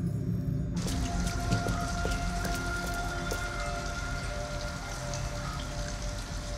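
Steady rain pours down in the game Detroit: Become Human, a dense, even hiss that sets in sharply after a brief quieter opening and carries on evenly with no voices.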